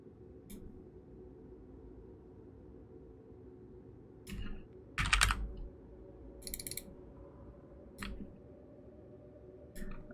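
A clicky computer keyboard gives a few sparse, short bursts of key clicks against a quiet background hum, nearby and fairly soft, with no voices.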